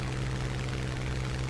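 A Ki-84 Hayate fighter's piston engine drones steadily in the War Thunder video game, a faint, even hum with no talk over it.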